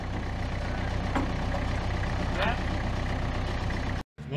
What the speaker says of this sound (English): And then we just hitch it up to the tractor.